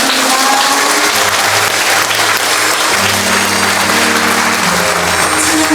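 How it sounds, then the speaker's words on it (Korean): Sustained, steady applause from a large church congregation fills the whole stretch, loud and even, with a low hum of music or organ underneath. "박수로 하나님께 영광드립니다."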